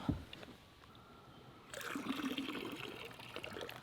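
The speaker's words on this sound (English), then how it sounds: "Just give them a quick rinse. Wash all the blood off." Crappie fillets rinsed under running water to wash off blood, a quiet trickle that swells into a steadier, louder pour of water partway through, close by with no talking.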